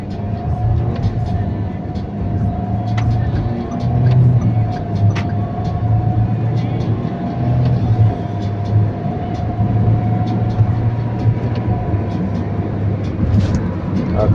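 A car with a dual-clutch gearbox idles and is shifted into first gear from inside the cabin, a steady low engine drone and hum with faint clicks throughout, continuous and fairly loud.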